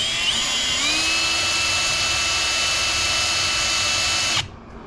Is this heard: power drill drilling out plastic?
yes